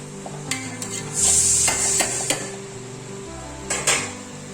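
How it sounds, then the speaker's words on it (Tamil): Tomato, onion, green chili, mint and coriander sautéing in a pan for mutton dum biryani, with a spoon stirring and scraping in a few short bursts over a steady soft sizzle, close and clear. "தக்காளி, வெங்காயம், பச்சை மிளகா, புதினா, மல்லி எல்லாமே நல்லா வதங்கணும்."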